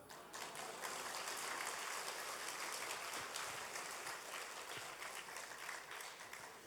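Church congregation applauding during a priest's talk, a dense sustained wash of many hands clapping that fills the whole stretch, fairly loud and steady before easing slightly at the end.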